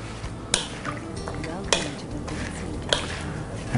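Spoon stirring a potato dish in a pan with citrus zest added, giving soft scraping and sizzling with a few sharp clinks against the pan, close by and steady throughout, with no talk.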